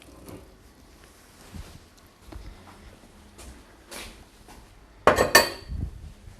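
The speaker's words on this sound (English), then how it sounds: "At this stage we can add some cauliflower." Cauliflower pieces tipped into a metal cooking pot for a Kerala-style vegetarian pumpkin soup: quiet clinks and scrapes of pot and utensils, then a louder clattering burst near the end.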